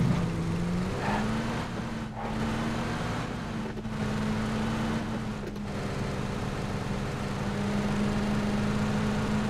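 Buggy engine driving in a multiplayer video game, a steady droning motor hum with slight pitch shifts as it accelerates, continuous and fairly loud with no talk.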